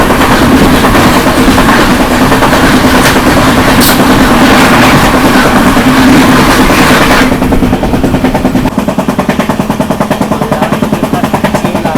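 The Patna–New Delhi Sampoorna Kranti Express rushes past a level crossing, a loud, close, continuous rumble of wheels and coaches that eases into rhythmic clickety-clack over the rail joints as the last cars go by.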